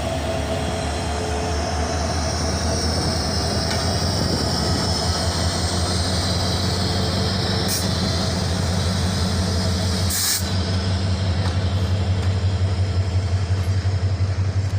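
A long intercity passenger express train rolls steadily past up close, a continuous loud rumble with rhythmic clickety-clack of wheels over rail joints and occasional brief squeals, sustained throughout.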